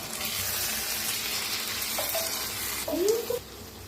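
A spoon stirs stuffed ridge gourd cooking in oil in a pan, over a steady, even sizzle, with a brief scrape and clatter of the utensil near the end.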